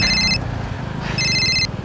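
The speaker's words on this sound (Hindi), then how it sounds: "फोन आ रहा है।" Mobile phone ringtone for an incoming call: two short bursts of a bright electronic trill, each about half a second long, repeated close and loud over a low background rumble.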